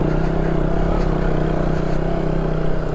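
A motorbike engine runs steadily while climbing a steep jungle road, a continuous mid-pitched drone with slight revving and clatter, close and loud throughout.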